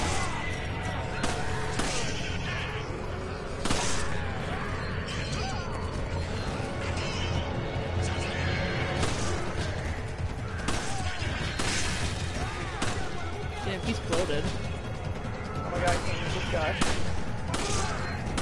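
Resident Evil 5 co-op play: repeated bursts of gunfire with sharp crashing impacts and an explosion, loud and rapid across the whole stretch, with a player's voice talking over parts of it.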